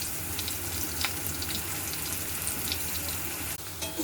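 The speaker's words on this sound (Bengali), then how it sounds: "আমি আলুটাকে একটু ভালো মতো ভেজে নিচ্ছি" Potatoes frying in a pan for a rohu fish curry, a steady broadband sizzle that stays loud and continuous throughout, close by, with one brief clatter near the end.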